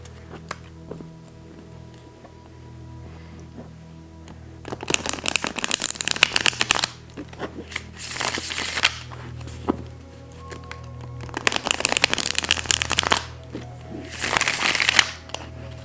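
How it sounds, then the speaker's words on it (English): Bonestone & Earthflesh tarot cards are riffle shuffled in several bursts, crisp fluttering rattles of cards interleaving close by, separated by quieter handling and tapping. "let's look how it shuffles"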